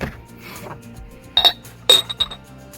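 A glass storage jar for dry goods with a decorative lid clinks up close, several bright ringing taps of glass on glass bunched into a quick sequence near the end.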